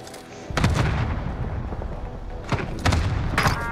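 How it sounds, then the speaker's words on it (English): Cluster strike explosions in a video game land as a quick series of heavy, booming blasts, several close together, with rumbling noise between the hits. "good copy. Cluster strike away."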